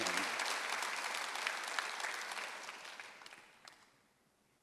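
A church congregation at a Sunday service claps together, a dense, sustained burst of applause that thins and fades out over a few seconds.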